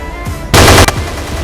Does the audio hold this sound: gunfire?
yes